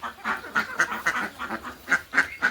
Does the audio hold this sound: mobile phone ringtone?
no